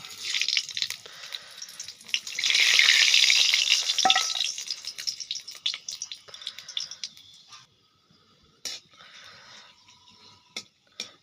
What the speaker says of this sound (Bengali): তেলটা তেতে গেছে, শুকনো লঙ্কা, পাঁচফোড়ন আর তেজপাতা দিয়ে দেবো